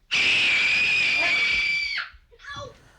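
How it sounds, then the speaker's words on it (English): A person lets out one loud, shrill, sustained scream lasting about two seconds, close and piercing, then trails off into a brief, quieter vocal sound. "And then your mouth gets bigger, bigger, and scream."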